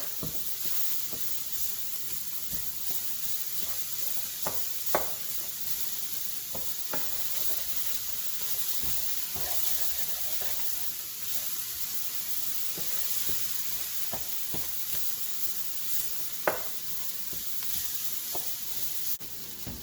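Ground pork sizzles steadily in a pan while being broken up, a constant frying hiss dotted with occasional soft scrapes and taps of a utensil, close and alone.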